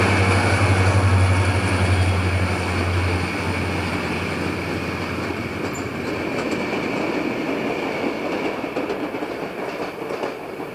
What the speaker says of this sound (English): The commuter train is only a short distance beyond the station when it has a meet with a fast-moving